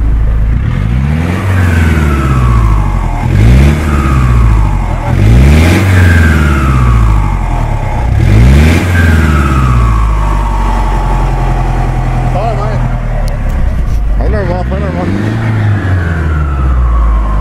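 Iveco truck engine with a turbo revving hard while parked, in repeated surges held near 2,500 rpm, with rising and falling pitch and a loud, close, continuous roar that runs the whole time.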